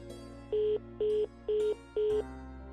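Four evenly spaced electronic tone bursts, each about a quarter second long, repeat steadily over a low background hum, like a phone ringing.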